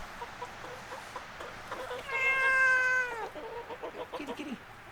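A single drawn-out cat meow, close and clear, rising then falling, amid quiet background noise and faint soft sounds.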